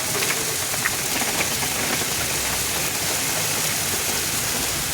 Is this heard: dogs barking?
no